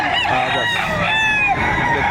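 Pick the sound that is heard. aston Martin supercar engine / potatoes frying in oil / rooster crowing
rooster crowing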